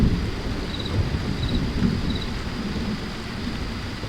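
Heavy thunderstorm rain hisses and patters steadily on a truck, with a deep rumbling underneath, a continuous storm roar up close with no voices.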